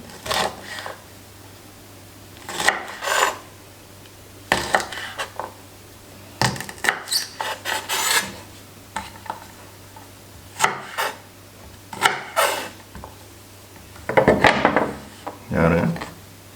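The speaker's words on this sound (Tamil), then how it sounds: "பீன்ஸ் கொஞ்சம் வந்து நீளமாக கட் பண்ணணும்" Green beans being cut into long pieces with a knife for a vegetable kadai: scattered close scrapes and crisp cutting bursts in an irregular rhythm, with quiet gaps between them.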